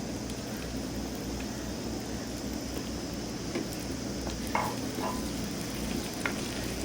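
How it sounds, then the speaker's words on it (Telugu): Onions frying in a pan with a fresh paste of ginger, garlic, cinnamon and clove for a village-style quail fry, a steady close sizzle and crackle throughout with no one talking. "వీటన్నిటిని బాగా కలుపుకొని వేయించుకోవాలి."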